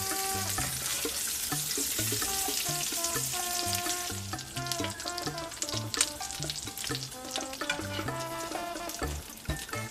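Salmon fries in oil with minced garlic and a splash of lime, making a continuous busy sizzle and crackle. Louder music plays throughout and covers much of it, and no one speaks.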